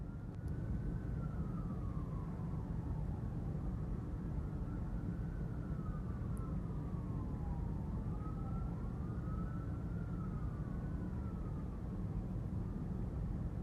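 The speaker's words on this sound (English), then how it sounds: "Hear those sirens?" Emergency vehicle sirens wail steadily, their pitch rising and falling in repeated sweeps over a constant low rumble of traffic, with no voices present.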